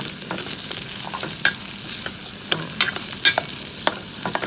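Pork stir-fries in a pan over moderate heat, a constant sizzle broken by repeated scraping and clinking strokes of the spatula at irregular intervals.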